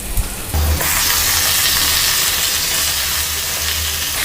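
Chicken sautés with curry leaves in a pan, a loud continuous sizzle that starts after a short quieter moment and carries a low rumbling undertone, with no one talking.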